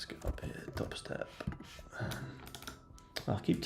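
Keys clatter on a computer keyboard in quick irregular bursts during a live trading session, close and fairly quiet, with soft voice sounds and background noise mixed in.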